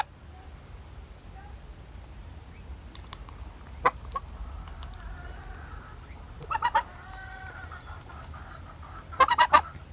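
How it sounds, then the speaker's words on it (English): A domestic pet goose, a guard goose kept with hens, gives a few short honks at intervals, close and moderately loud over faint background hiss, with soft chattering calls between them. "you're a good goose"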